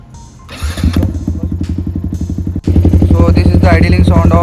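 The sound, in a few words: Yamaha R15 V4 motorcycle idling with SC Project full exhaust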